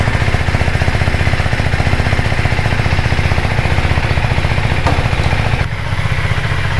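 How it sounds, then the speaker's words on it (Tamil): A motorcycle engine running in gear while the bike sits on a paddock stand, loud and close, with a steady rapid thumping beat throughout and no speech. "ஸ்டார்ட் பண்ணியாச்சு. கியர் போட்டுக்கிறேன்."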